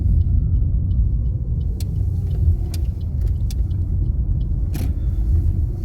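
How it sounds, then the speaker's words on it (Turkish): A car rumbles steadily from inside the cabin as it slows and turns right on a driving-test route, a low continuous engine and road drone with a few faint clicks. "Sonra aracı iyice yavaşlatıp sağa doğru dönüşümüzü gerçekleştiriyoruz."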